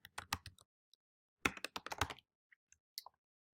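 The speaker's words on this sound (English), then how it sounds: "as you and I are typing in this property address here" Bursts of keystrokes on a computer keyboard as a property address is typed in, two quick clusters of taps separated by a pause, then a few isolated clicks, close and fairly quiet with no talking.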